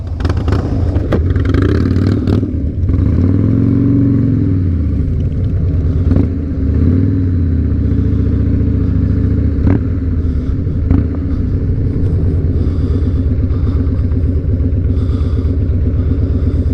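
A Harley motorcycle engine rumbles loud and close with a deep throbbing idle, rising in a few revs early on before settling into a steady, even drone as the bike pulls away.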